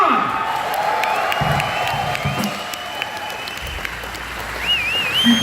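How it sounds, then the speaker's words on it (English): An audience at GearFest applauds and cheers for a guitarist: sustained clapping with whoops and shouts from a crowd, while a voice speaks over the noise and guitar feedback squeals faintly. "Let's hear it for Nita Strauss, come on!"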